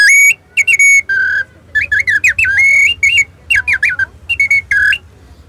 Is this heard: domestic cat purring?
no